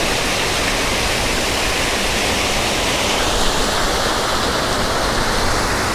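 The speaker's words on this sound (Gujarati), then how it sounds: "જો મિત્રો આ ઝરણા જુઓ તમે." Stream rushing through a rocky river canyon, a loud, steady wash of flowing water that fills the scene without pause.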